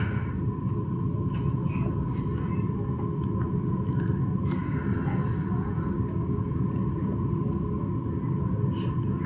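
Steady broadband air vent noise from a ceiling vent above a desk in a house, a constant low rumbling whoosh with a faint hum, continuous and unchanging throughout with no talking.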